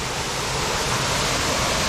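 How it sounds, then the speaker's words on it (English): A waterfall at a 1992 filming location roars as a loud, unbroken wash of rushing water, close and steady with no voices over it. "the waterfall here to the left"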